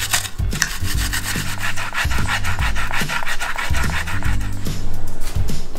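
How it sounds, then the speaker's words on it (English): Fresh ginger is rubbed hard against a grater in quick, steady rasping strokes, loud and close, with brief pauses between passes and no talking. "We're gonna first grate the ginger."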